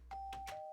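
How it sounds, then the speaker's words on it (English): A brief electronic doorbell chime, a quick sustained tone with soft pulses, quiet and synthetic-sounding. "Doorbell!"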